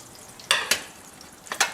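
Spices frying on low heat in a pan for a mild butter chicken, with soft sizzling broken by a few sharp scraping stirs of a spoon against the pan.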